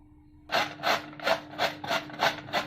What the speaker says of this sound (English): We are grating the onion.